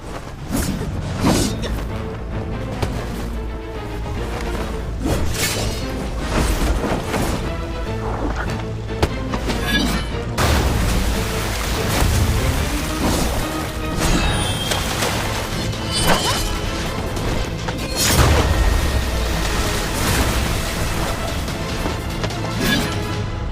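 Wuxia costume-drama fight effects for the Storm Pear Blossom Needles hidden-weapon attack: loud, dense whooshes, thwacks and crashing impacts fire in quick succession throughout, with no pause.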